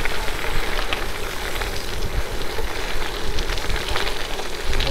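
A steady, dense rain shower patters on surfaces during an autumn gravel bike race around Lahti, a continuous hiss with no pauses and no talking.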